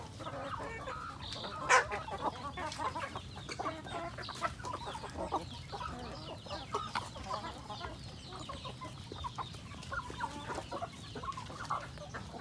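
Hens and chicks cluck and peep steadily while being fed scattered feed, with soft overlapping calls and small pecking sounds throughout; no talk.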